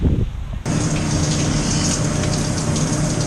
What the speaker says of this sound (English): Great way to get all the salt water off your gear